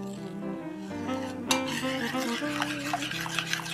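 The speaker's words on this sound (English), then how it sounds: "So I'm just going to mix this up" Pumpkin pie filling is stirred in a bowl, making a steady, soft scraping and swishing with a brief clatter partway through, close and fairly quiet over a faint background hum.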